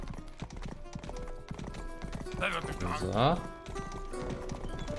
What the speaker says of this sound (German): Erstmal ein Pferd klauen.